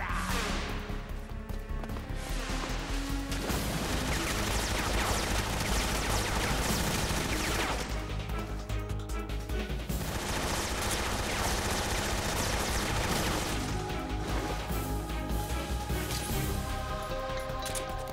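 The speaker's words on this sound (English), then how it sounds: "Tommy gun!" Tommy gun fire in Metal Gear Solid 3: Snake Eater, heard as dense, continuous rattling bursts layered with crashing impacts and game sound, loud throughout with short dips between volleys.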